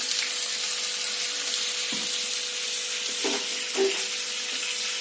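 Potatoes frying in a pan on the stove give a steady, close sizzling hiss, with a few soft stirring clinks near the end and no talking.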